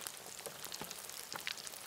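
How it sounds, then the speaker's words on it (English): Chicken deep frying in hot oil gives a dense, steady crackling hiss with scattered pops, faint and even, resembling rain, with no voices. "enjoy the gentle sound of deep frying chicken"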